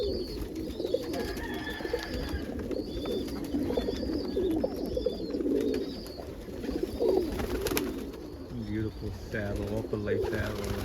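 Pigeons coo steadily in a close flock while being fed corn in cold morning air, soft repeated calls with occasional wing flaps and someone talking nearby.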